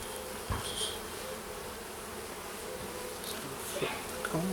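Honey bees crawl and hum over comb in a top bar hive, a soft steady buzzing drone with brief louder passes of individual bees, fairly quiet and close.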